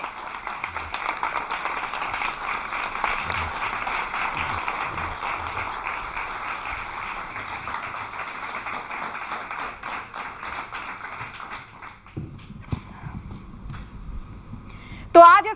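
A studio audience at a Hindi news channel interview applauds to welcome a guest: a steady, moderately distant wash of clapping lasting about twelve seconds, then fading into quieter room sounds.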